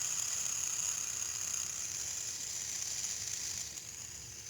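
A steady high-pitched whir with a faint sizzling edge from a fidget spinner spinning on its bearing, continuous and close, fading slightly toward the end as the spin slows.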